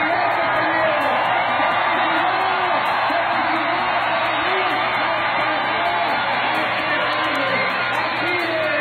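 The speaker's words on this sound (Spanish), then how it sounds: "quienes al grito de fuera Peña, fuera Kiko, repudiaron el gasolinazo y la privatización del agua en su estado" Protest crowd in Mexico chanting and shouting against the gas price hike and water privatization, a dense, continuous roar of many voices at steady loudness throughout.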